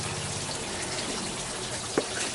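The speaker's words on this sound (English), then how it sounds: "Add some hot water." Hot water pours steadily into an incubator to raise the humidity, a continuous close gushing splash with a small knock near the end.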